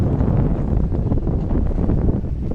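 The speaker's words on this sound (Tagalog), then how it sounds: "Ganda dito, napakalakas ng hangin." Strong sea wind buffets the microphone at Pangilby Bridge, a steady, loud low roar with rough gusty texture that runs unbroken throughout, with no voices.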